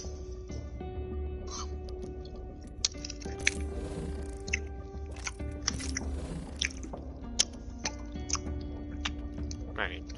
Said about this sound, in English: do you not chew like that?